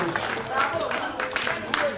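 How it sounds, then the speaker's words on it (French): Brief burst of audience applause for a young student poet at a theatre event in Benin, a couple of seconds of scattered claps blended with voices. "On l'applaudit très fort s'il vous plaît."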